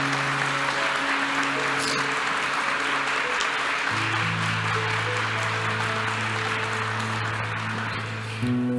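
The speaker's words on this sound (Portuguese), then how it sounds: "Uma salva de palmas para os papais." A church congregation at Mass claps for the fathers, a continuous spread of many hands applauding while sustained organ or keyboard tones hold and shift underneath, steady and fairly loud to the end.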